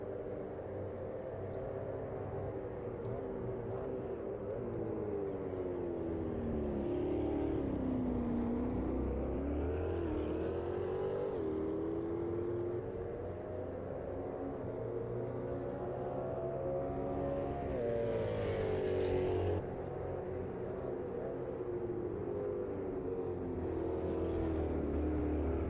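An Ultima GTR race car in the Automobilista 2 sim racing game at Termas de Rio Hondo drones its engine steadily, rising and falling through gear changes and revs, loud and continuous without talk.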